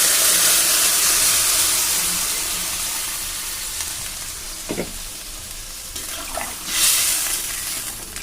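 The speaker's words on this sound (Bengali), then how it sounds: "জল দিয়ে দিচ্ছি ডাইরেক্ট" Water poured straight into a pan of fried potato and pumpkin for a pumpkin and hilsa curry, a loud hissing sizzle that slowly fades, with a few scraping knocks and a brief final surge.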